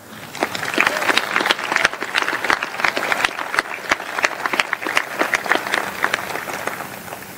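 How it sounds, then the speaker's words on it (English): A commencement ceremony audience gives a round of applause for faculty and staff, with dense, energetic clapping from many hands that holds steady throughout. "I'd like to ask for a round of applause for the faculty and staff"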